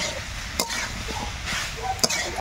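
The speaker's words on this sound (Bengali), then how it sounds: "ভালো করে মাংসের মতো কষিয়ে নেব" Figs (dumur) stir-fry in a pan like mutton, a continuous sizzle with two sharp scraping clacks of the spoon against the pan.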